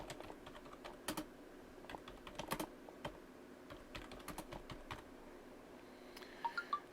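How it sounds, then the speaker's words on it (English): Close, quiet typing on a computer keyboard, irregular runs of light key clicks with a few sharper taps toward the end and no speech. "You can type in a little message."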